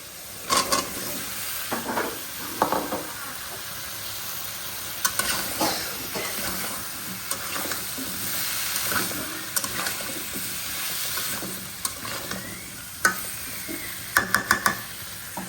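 Sweet pumpkin pieces go into a prawn curry and are stir-fried in spiced oil, making a soft, continuous sizzle broken by scattered scraping and clattering stirring sounds at close range, with no talk.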